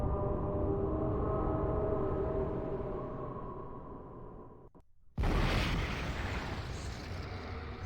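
Temple collapsing in an explosion in the video game Zork Nemesis: a loud, sustained roaring rumble with a low tonal drone, a brief dip, then a sharp renewed blast of broadband noise that holds steady.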